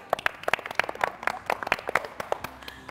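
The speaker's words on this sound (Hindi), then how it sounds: "तालियां बजा लो।" Scattered clapping on a Hindi TV talk show after a recited rhyme, a handful of distinct, uneven claps of fairly close hands, thinning out toward the end.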